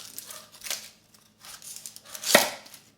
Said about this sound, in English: we're going to cut off the stem side, just kind of one slice down